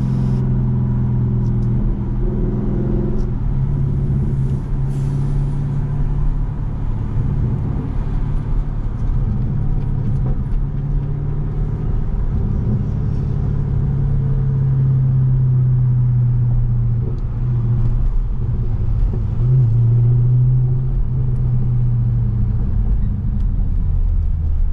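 A deep, steady V8 exhaust rumble from a modified Dodge Charger Daytona 392 with the exhaust vent open idles and burbles continuously, with gentle swells in pitch, heard up close without any talking.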